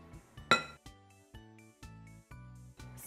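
Eggs stirred into brownie batter in a bowl, heard as a run of bright clinks and taps of a utensil against the bowl, one sharp louder knock early on, then steady separate strokes.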